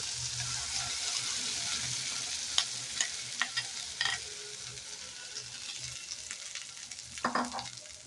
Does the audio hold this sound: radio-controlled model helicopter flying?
no